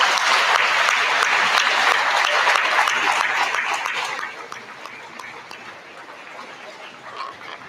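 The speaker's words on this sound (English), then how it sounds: "Turn to your parents, and let's give them a round of applause." A crowd at a senior awards ceremony applauds the graduates' parents, loud dense clapping that fades to scattered claps after a few seconds, with a dog barking faintly in the background.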